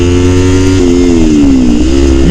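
A Kawasaki Ninja 300 motorcycle engine revs hard in a low gear, loud and close. It gives a continuous droning whine whose pitch climbs, dips and climbs again, with no talk.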